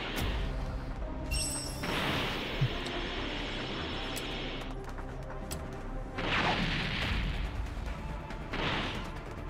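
Cannon blasts in the video game Dragon Ball Breakers: loud, harsh, noisy bursts that crash in and sustain, one after another, with a bright ringing tone layered over the first blast.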